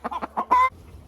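A laying hen in late October, wanting to go broody, gives a few quick close clucks followed by a longer drawn-out cackle, then falls quiet.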